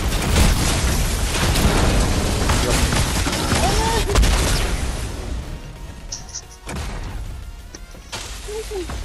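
Chaotic battle noise in the video game Fortnite with grenade explosions, loud booms and crashing blasts mixed with gunfire, dense for several seconds and then thinning into scattered bangs.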